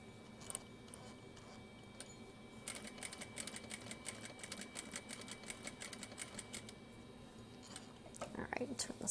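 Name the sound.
sewing machine sewing darts on a zipper pouch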